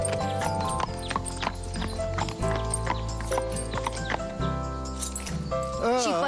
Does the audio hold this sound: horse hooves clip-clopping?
yes